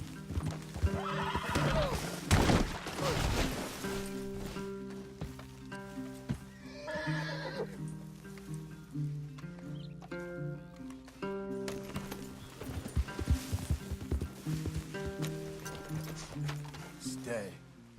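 Horses in the video game Red Dead Redemption 2 neigh and whinny repeatedly while hooves clip-clop, mixed with music and occasional talking, moderately loud throughout.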